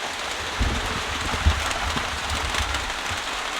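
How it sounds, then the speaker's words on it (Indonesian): Heavy rain pours down during a three-day mountain hike to Lembah Ramma, a dense, even hiss of drops hitting surfaces close around, with a few louder patters and no speech. "Ini hujannya keras sekali."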